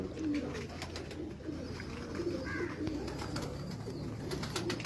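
A pigeon coos softly several times among other faint bird sounds and room noise, fairly quiet and a little distant.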